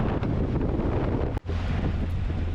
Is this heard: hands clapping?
no